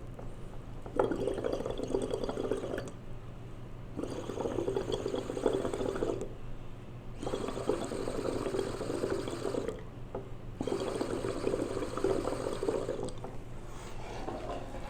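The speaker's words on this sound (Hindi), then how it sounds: "एक गिलास में पानी लेंगे, उसमें स्ट्रॉ लगाएंगे और उसमें सांस बाहर छोड़ करके बबल बनाएंगे" Breath blown through a straw into a glass of water, four separate bursts of close bubbling and gurgling, each lasting about two seconds with quiet pauses between them.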